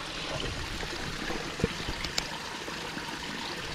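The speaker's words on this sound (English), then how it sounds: "Let me just look at the waterfall." Steady rushing and trickling water from a small waterfall in a creek, continuous and fairly close, with a couple of brief splashy knocks and no voices.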